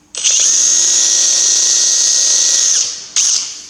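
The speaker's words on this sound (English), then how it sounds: "That's a brand spanking new drill I'm using." A brand-new power drill whines loudly at a steady high pitch while boring into a hard bush on a Massey Ferguson 135 tractor diff lock shaft, running about two and a half seconds, dropping off, then a brief second burst.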